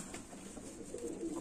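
Lotan pigeons give soft, low cooing close by, a faint, short murmur with no one talking.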